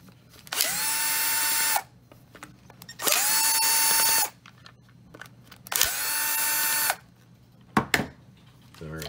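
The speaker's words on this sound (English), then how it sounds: "loosening the four plastic screws on the front of the enclosure with a powered screwdriver" Powered screwdriver backing out plastic screws on the front cover of a sump alarm WiFi enclosure, three separate bursts of whirring roughly a second long each, followed by a couple of short clicks, close and clear.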